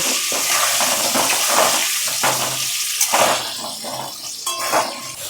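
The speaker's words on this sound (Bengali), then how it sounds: "আমি লাল লাল করে আলুটা ভেজে নেব।" Potatoes frying in a pan with turmeric and salt for a Bengali chicken dish give a steady, close hiss and crackle of hot oil, with occasional scraping knocks from stirring and no talking.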